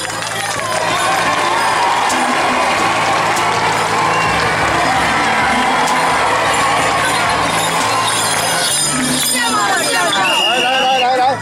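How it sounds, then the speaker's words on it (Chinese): Crowd applause and cheering fill an outdoor charity parade at a temple courtyard in Yunlin, a dense, loud and continuous roar of many people that lasts throughout. "掌声来，咱感谢一下"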